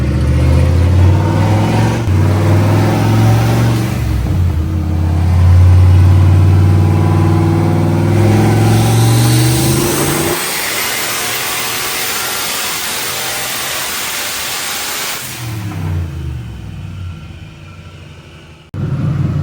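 A turbocharged Foxbody engine, built for around 500 horsepower, revs hard on a dyno, loud and close, droning and climbing before dropping to a lower, rougher idle, then revving again near the end.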